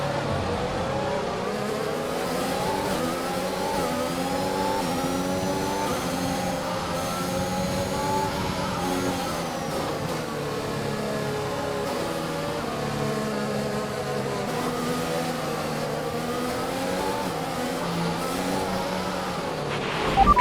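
Formula 1 car from F1 2021 on a warm-up lap at Monaco, its high-pitched engine wailing continuously, rising and falling through the gears for the whole stretch, loud and close with no talking.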